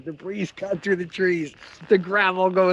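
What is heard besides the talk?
No everyday noises stand out.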